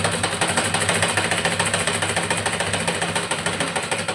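A sewing machine stitches a blouse sleeve in a fast, steady mechanical whirr with a regular rapid pulse, running continuously and close by with no talk.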